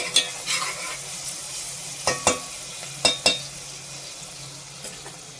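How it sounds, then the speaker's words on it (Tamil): Ingredients sautéing in a pan for mutton biryani, stirred until golden brown: a soft continuous sizzle broken by a few sharp scraping clicks of a spoon against the pan, close and clear, with no voices. "நல்லா வதக்கிக்கலாம், கோல்டன் ப்ரௌன் ஆகுற வரைக்கும்."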